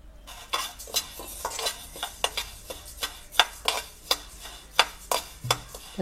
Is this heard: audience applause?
no